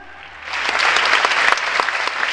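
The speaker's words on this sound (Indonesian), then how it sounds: "Tepuk tangan." Church congregation bursts into applause during a sermon, clapping swelling quickly from quiet to a full, steady roar of many hands with no speech on top.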